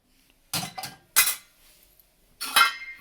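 Metal spoons and ladles set into a Bosch dishwasher rack, three separate bursts of clinking cutlery close by, with short quiet gaps between, no voices.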